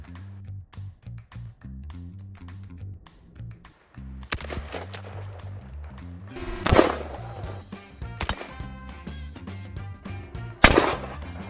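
Varmint rifle rounds fired at bulletproof armor on a Montana ranch: a few sharp, loud broadband cracks ring out at intervals over a steady low humming background, with no voices.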